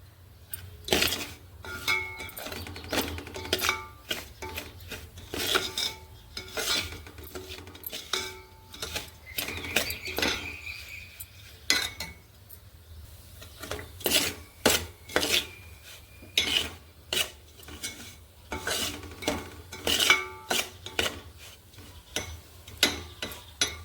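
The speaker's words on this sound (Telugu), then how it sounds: "ఇలా కలుపుతూ ఉండాలండి ఇలా కలుపుకుంటూ చక్కగా వేయించుకోవాలి" Semolina is stirred and roasted in a pan for a sweet kesari, a close dry scraping and rasping of the spoon against the pan that repeats in a steady rhythm with no talk.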